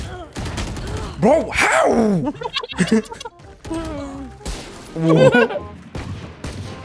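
Gunfire in the video game Valorant, bursts of shots with loud excited voices talking and shouting over them, uneven and chaotic.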